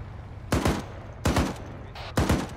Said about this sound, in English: You need to fire in 3 to 5 round bursts.